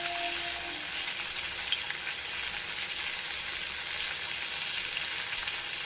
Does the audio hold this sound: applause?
no